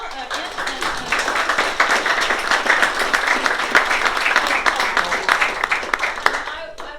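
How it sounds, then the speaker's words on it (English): An audience at a small campaign event applauds, dense clapping rising quickly and holding steady for several seconds before tapering near the end, with some voices mixed in. "And can we have a round of applause for Michelle?"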